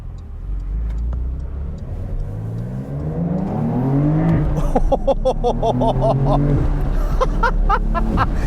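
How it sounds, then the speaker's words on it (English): A 2022 Porsche 911 Targa 4 GTS with a manual gearbox, driven with the top down, gives a loud, steady engine drone that climbs in pitch as the car accelerates through the gears. "That's the whole point of a 911, is it makes you feel like you're driving a special vehicle."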